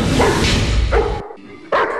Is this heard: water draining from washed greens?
no